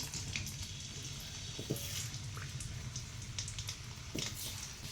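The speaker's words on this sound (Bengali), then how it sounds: "প্রথমে আলু কটা ভেজে নেব।" Potatoes frying in hot oil in a home kitchen while a desi chicken curry is being prepared, giving a faint, steady sizzle and hiss with a few soft clinks throughout.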